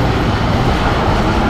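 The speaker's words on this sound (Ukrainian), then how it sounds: "це проїхав краківський трамвай" A tram passing on a street in Kraków, Poland, a loud continuous rolling rumble of wheels on rail that fills the whole stretch without a break, with no talk over it.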